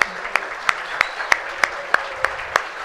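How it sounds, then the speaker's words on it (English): At a Rotary Colombia District 4271 gathering, an audience claps for Julián in an even, rhythmic beat of about three claps a second, loud and close. "Everyone stand up and give a huge applause to Julián."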